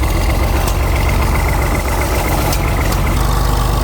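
A diesel bulldozer engine runs steadily close up, a loud continuous low rumbling idle with a constant mechanical drone and no pauses.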